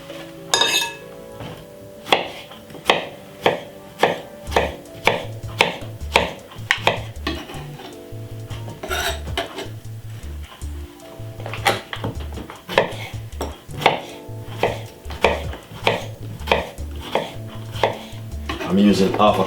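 Knife chopping cucumber into small pieces on a board, a steady series of crisp, close taps with occasional clinks of utensils and dishes, no talking.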